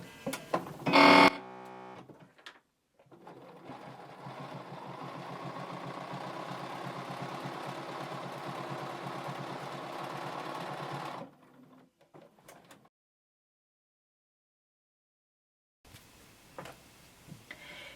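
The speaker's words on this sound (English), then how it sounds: "we're going to start on one side at the bottom and we're going to sew all the way up" A sewing machine stitches a poncho side seam in one steady, even whirring run of about nine seconds, with brief handling sounds before it and light clicks afterward.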